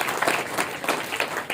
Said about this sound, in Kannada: ಒಂದ್ಸಲ ಜೋರಾಗಿ ಚಪ್ಪಾಳೆ